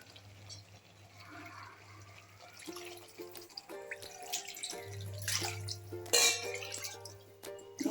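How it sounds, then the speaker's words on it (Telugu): Water is poured with a cup into a cooking pot of vegetable sambar rice, a gushing, splashing rush with drips that swells in bursts and grows louder toward the end, close and alone without talk. "వాటర్ యాడ్ చేసుకో. ఒక 3-4 కప్పులు వాటర్"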